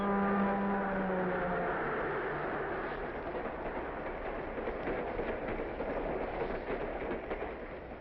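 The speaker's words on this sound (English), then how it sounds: "The train is passing under a safe highway crossing built above the tracks." A 1940 passenger train runs under a highway crossing built above the tracks, giving a steady, moderately distant rolling rumble with a faint higher tone fading early on.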